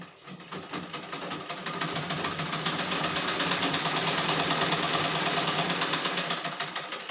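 A sewing machine runs steadily and loudly on its own for several seconds, its rapid mechanical stitching chatter ramping up at the start and slowing slightly near the end, with no talking.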